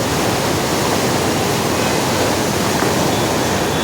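Steady, loud rush of floodwater about three to four feet deep pouring over a bridge in Puducherry after Cyclone Fengal, churning without pause in a broad roaring wash, with no voices.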